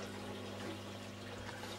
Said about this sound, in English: That's the return pump, sending water out of the last chamber back up into the main tank